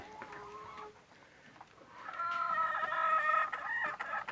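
Several backyard laying hens, raised on azolla, cluck and cackle close by, a quieter stretch first, then a louder, busier burst of clucking that keeps going to the end.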